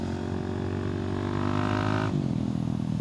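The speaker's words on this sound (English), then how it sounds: "peel out and just let that single cylinder sing" A KTM 690 SMC R single-cylinder motorcycle engine revs loudly and steadily for a couple of seconds, then the pitch drops as the throttle eases, heard close up without any talk.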